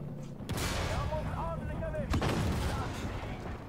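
Artillery fire in the tank game Armored Warfare: two heavy, booming blasts about a second and a half apart, with tonal game sounds in between and a constant rumble underneath.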